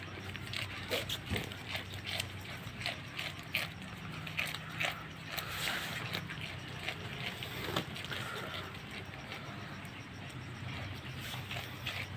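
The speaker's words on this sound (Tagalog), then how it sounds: "Ewan ko ba sa kambing. Nguya ng nguya." Steady, rhythmic crunching and grinding of a goat chewing food, close by, repeated clicks continuing throughout with faint background noise.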